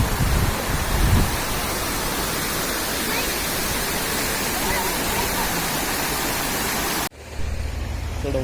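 A waterfall at Sonpari dam near Babra gives a loud, steady roar of falling water that fills the scene for about seven seconds, then cuts abruptly to a quieter low rumble.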